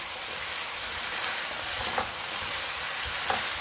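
Garlic scapes stir-fried with shredded dried pollack in a pan, a soft steady sizzle with a couple of faint utensil scrapes and no voices.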